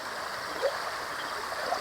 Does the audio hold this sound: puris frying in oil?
no